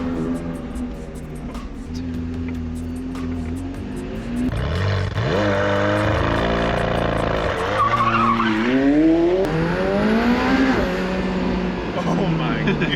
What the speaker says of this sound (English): The engine sounds awesome, just idling.